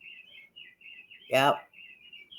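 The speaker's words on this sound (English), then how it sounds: "there goes the bird clock, and it's 8 o'clock Eastern the week prior" A bird clock plays repeated high chirping bird song steadily throughout, striking 8 a.m., briefly interrupted by a short spoken word in the middle.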